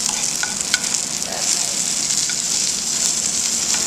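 A fish fillet sizzles loudly in a tilted pan while being basted with butter, a dense continuous frying crackle with a few light spoon clinks near the start, no talking.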